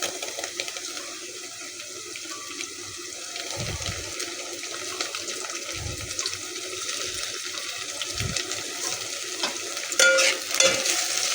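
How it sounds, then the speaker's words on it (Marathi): Tomatoes hit golden onions frying in oil for a masoor dal, giving a steady, even sizzle with occasional low thuds and scrapes from stirring. It plays close and moderately loud, with no voices. "आता हलकं गोल्डन कांदा झाला याच्यानंतर आपण त्याच्यामध्ये टॅमॅटो टाकूया"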